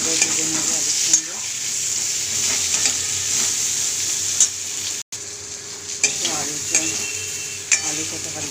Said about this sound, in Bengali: আলুটা তো হালকা ভাজা হয়ে এসছে, আর জিরেটা ভাজা হয়ে গেছে।